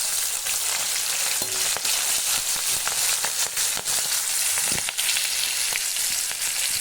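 Cumin seeds and green chillies crackle and sizzle in hot oil for a fish curry, a steady loud frying hiss broken by sharp spits and pops, with no talking.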